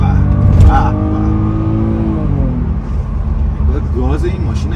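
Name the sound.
BMW 630i coupe engine revving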